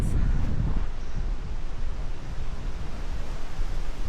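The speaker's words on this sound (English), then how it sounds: "Wow, it's windy." Strong wind buffeting the microphone, a loud continuous rumble with gusty fluctuations and no voices.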